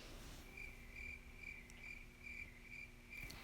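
Crickets chirping at night in a steady, evenly spaced rhythm of short pulses, faint and alone against a quiet background.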